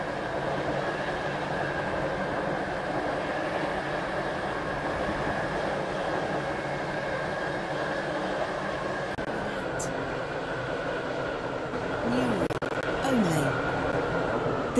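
A three-coach train in the SCR Roblox game runs steadily along rails with a constant rumbling drone, a brief chime near the end as it approaches the station.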